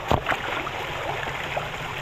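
Water pours steadily into a rice paddy channel in the heat, a continuous broad rushing wash at moderate loudness with a brief knock near the start.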